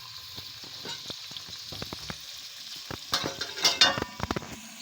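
Onions fry in a pan toward golden with a soft, steady sizzle, broken by light scraping and stirring clicks that grow a little louder near the end.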